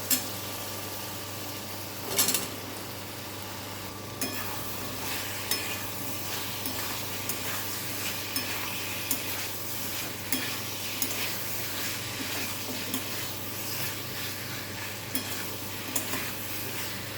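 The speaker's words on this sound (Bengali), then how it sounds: "এবার এটাকেও ভালো করে কষে নেব।" Ivy gourd (kudri) sautéing and being stirred in a pan, with a steady close sizzle and repeated scraping strokes of the spatula throughout, no talking.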